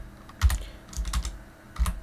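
Keys clatter on a computer keyboard in short uneven bursts, a few quick strokes at a time with brief pauses between, close and clear with no talking.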